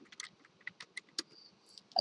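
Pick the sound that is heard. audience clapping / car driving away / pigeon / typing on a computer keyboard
typing on a computer keyboard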